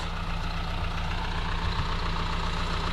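A farm tractor fitted with a four-bottom plough idles steadily on a field being ploughed, its low engine rumble constant and fairly close, with no one talking.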